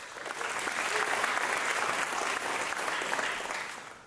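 A pitch event audience applauds steadily for about four seconds, a dense even wash of clapping that swells in after a quiet start and fades slightly at the end, with no talking over it.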